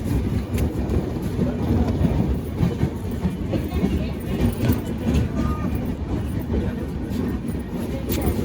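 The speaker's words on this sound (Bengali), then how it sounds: "ওইদিকে আর একটা ট্রেন যাচ্ছে।" Another train rolls past on a separate track at Ghatshila station, a loud continuous rumble with rhythmic clatter from the wheels running throughout, set against platform ambience.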